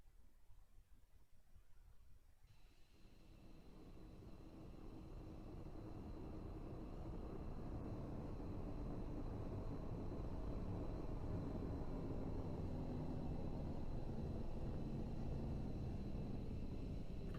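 A Roblox F-22 Raptor jet flies at a virtual airshow, its engine roar rising from quiet to a loud, steady broadband rush with a faint whine that holds for many seconds, with no talk.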